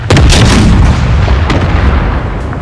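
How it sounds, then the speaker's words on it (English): In a pirate naval video game, a ship's cannons fire chain shot at enemy sails, producing loud, dense, overlapping booms that rumble continuously with a sharp report near the middle. "Get that chain shot."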